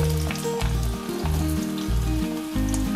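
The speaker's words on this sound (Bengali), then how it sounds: "ফোড়নের জন্য দিয়ে দিলাম কালো জিরে, আর দুটো কাঁচা লঙ্কা দিয়ে এবার দিয়ে দেব আলুগুলো।" Potatoes fry in hot oil with nigella seeds and two green chilies for a rohu fish dish. A continuous sizzle sits beneath steady background music with a pulsing bass.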